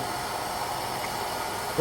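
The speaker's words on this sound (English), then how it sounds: "I can hear air coming a little bit from the jig." Air leaking from a CNC router vacuum jig with a cover sealed on top gives a steady, even hiss that is fairly quiet and constant throughout, with no speech.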